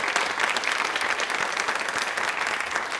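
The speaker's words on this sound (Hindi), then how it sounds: "अपने लिए एक बार तालियां जोरदार बजा दें प्लीज" Loud, sustained audience applause fills a Rajasthan quiz show studio, a dense steady clatter of many hands clapping evenly throughout with no pauses.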